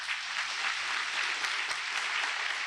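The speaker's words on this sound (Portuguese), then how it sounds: "Aplauda bem forte ao Senhor." A church congregation applauds during a service, steady broadband clapping sustained for the whole stretch at a moderate level, with no voices rising above it.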